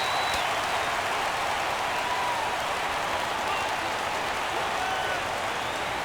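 A stadium crowd in the baseball video game MLB 17 The Show roars and applauds continuously as a full count arrives, a dense wash of cheering with a commentator's voice under it.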